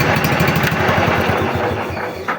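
A Prykarpatets mini tractor's small engine cranks and chugs close up, a loud, rapid, steady putter that slightly fades near the end, with no talking over it.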